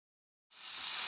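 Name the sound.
mushrooms sizzling in a pan for mushroom curry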